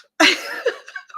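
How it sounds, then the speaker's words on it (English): A single sharp cough bursts out close up, followed by a few softer breathy after-sounds, with no speech. "I'm going to mute myself so I can cough."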